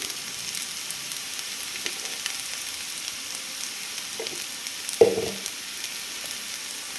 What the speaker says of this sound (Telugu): ఆలు అంతా చక్కగా ఫ్రై అయిపోయింది